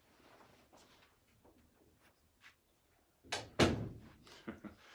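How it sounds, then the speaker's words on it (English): A door shuts with a sharp, close thunk after some quiet shuffling and movement, followed by a few softer knocks as it settles. "Forgot to shut the door and I'm picking up some background noise."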